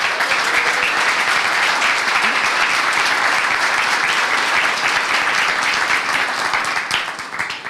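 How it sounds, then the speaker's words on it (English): A crowd at an evening community update event breaks into sustained, loud applause, dense clapping filling the room for several seconds before beginning to taper off at the end. "I'd like to give them all a big round of applause, please."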